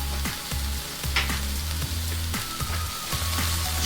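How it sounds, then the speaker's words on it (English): Salt, black pepper and cayenne frying in a cast iron Dutch oven, a steady close sizzle with soft scraping stirs and low rhythmic knocks throughout. "we're just going to cook these spices out for 1 minute"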